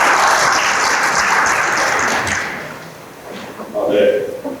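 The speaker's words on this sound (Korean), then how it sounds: "다시 박수로 모시겠습니다." Audience applause at a blockchain gaming meetup, loud and steady clapping from a crowd filling the room, fading slightly toward the end as scattered claps and a brief voice emerge.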